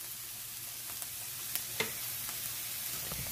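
Red bell peppers fry in a pan with a steady, quiet sizzle and a few soft pops and crackles, with no talking.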